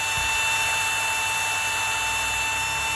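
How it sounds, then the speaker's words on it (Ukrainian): A Philips LatteGo coffee machine's built-in grinder runs empty with no beans, giving a constant high, thin mechanical whine with a low hum. It lasts a few seconds, close and unbroken, with no voices. "Це кавомолка."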